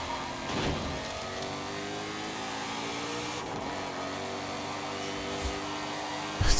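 A 2024 Ford Mustang driven in Forza Horizon 5 holds a steady engine drone with layered harmonics and small rises in revs, running continuously with a louder burst right at the end.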